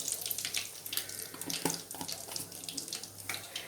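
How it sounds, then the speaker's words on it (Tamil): Mustard seeds spluttering in hot oil in a pan, a quiet, steady crackle of tiny pops with no talking. "கடுகு பொரியட்டும்."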